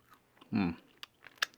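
A single crisp bite into a crunchy air-fried chicken tender, followed by a few small crackles and quiet chewing, close up and fairly soft.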